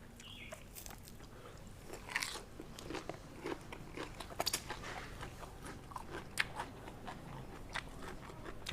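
Close, crisp crunching and chewing as someone eats spicy fresh shrimp salad with crunchy raw vegetables, with irregular bites and soft mouth sounds throughout.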